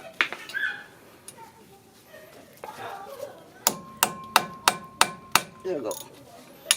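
Hammer blows on front brake parts of a 2008 Kia Sedona during a brake pad replacement: scattered knocks and a voice at first, then a run of about seven sharp, evenly spaced, ringing strikes close by.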